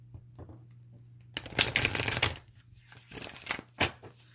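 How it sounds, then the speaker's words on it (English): Tarot cards are shuffled briskly in a close, crisp riffle, followed by a few shorter flicks and taps of the deck. "So you want me to shuffle one more time."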